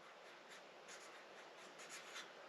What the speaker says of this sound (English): And we're going to write quick